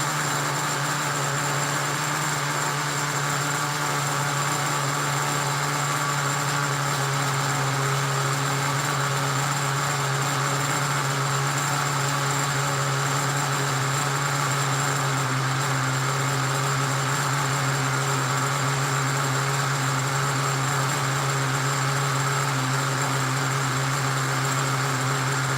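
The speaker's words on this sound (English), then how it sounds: "This thing fires up and idles like that every time." A nitro RC car engine idles steadily and loudly throughout, a constant buzzing drone with strong tonal hum and no talk.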